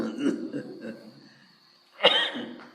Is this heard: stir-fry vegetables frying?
no